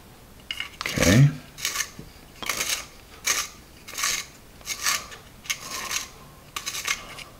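A manual sharpener grinds a Bazic 2B pencil in a series of short, rasping scrapes, roughly one every half second to second, close up and fairly loud.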